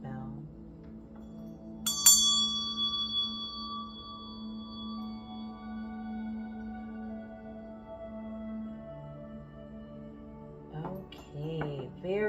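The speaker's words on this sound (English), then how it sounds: "turn down the volumes on your device now as I ring the bell" A single bell is struck once, giving a bright, clear strike followed by a long, slowly fading ring of sustained tones, with a voice beginning to speak near the end.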